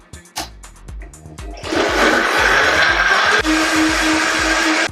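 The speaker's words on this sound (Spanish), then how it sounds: "Batimos." A kitchen blender, heard after a few knocks and clicks, whirs loudly and steadily for several seconds while blending homemade beet juice sweetened with cane honey for a vegan burger.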